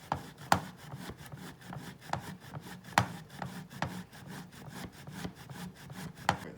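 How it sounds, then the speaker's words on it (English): A block of aged Parmesan cheese is drawn across a fine grater in steady, rhythmic rasping strokes, each ending in a sharp scrape, close and moderately loud with no talk. "We're gonna go with our Parmesan again. Like before, you want a finer grate on this"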